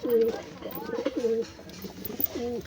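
A Kalanka pigeon coos close by in repeated short, rolling phrases at a steady rhythm, with someone speaking softly in the background.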